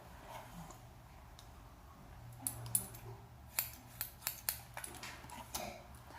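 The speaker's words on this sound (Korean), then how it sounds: "이렇게 해서 잘라 주시면 됩니다" Grooming scissors snip through a spaniel's coat, a quick run of crisp metallic clicks close by, about six or seven cuts in the second half after a quiet stretch.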